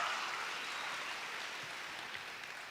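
A church congregation applauds during a sermon, a steady hissing wash of many hands clapping together, heard a little way off and slowly tapering in loudness.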